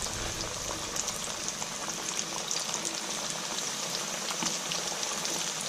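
Chicken pieces for a KFC-style original recipe sizzling in hot frying oil, a dense, steady close-up crackle and bubbling hiss that holds evenly throughout with no voices.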